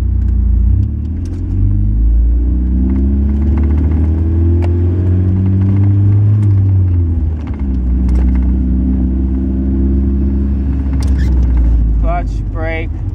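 Manual five-speed car idling and then pulling away in first gear, a loud steady engine rumble from inside the cabin that rises as the car moves off, with a person talking over it.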